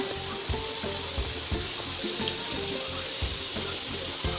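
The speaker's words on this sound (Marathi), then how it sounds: "लसूण टाकलेलं आहे मी तेलामध्ये. लसूण आपला छान वरती येत आहे" Garlic frying in hot oil, a steady dense sizzle with occasional clinks and stirring taps, loud and continuous throughout.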